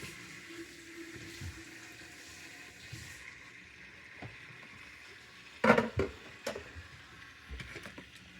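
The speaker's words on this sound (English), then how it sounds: "it will start pumping water out" Water runs steadily through a filter pump during an aquarium water change, a low continuous trickle and hiss with a few louder gurgling splashes toward the end.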